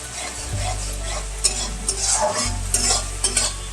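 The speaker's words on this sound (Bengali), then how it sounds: "মশলাটা দিয়ে অনবরত একটু নাড়াচাড়া করতে হবে তা না হলে মশলা নিচ থেকে" Spice masala for chana paneer, frying in oil while being stirred constantly, a continuous close sizzle under a low hum, with repeated scraping and clinking strokes of the spoon on the pan.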